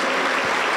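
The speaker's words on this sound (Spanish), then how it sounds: "Fuerte las palmas para Cristo." A church congregation claps loudly and steadily for Christ during a Spanish-language evangelical sermon, a dense, continuous wash of many hands applauding close by without a break.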